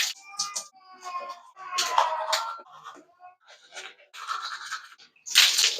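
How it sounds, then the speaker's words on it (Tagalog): Someone brushes their teeth with a toothbrush, producing close, irregular bursts of wet scrubbing with short pauses between strokes. "Kailangan ko muna maghilamos sa toothbrush."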